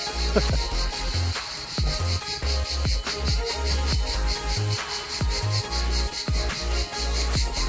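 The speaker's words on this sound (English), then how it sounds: "The crickets are immense, aren't they?" Loud, dense chirping of crickets fills the air at an archaeological park in Paphos, Cyprus, a continuous pulsing chorus with rhythmic trills and no talking.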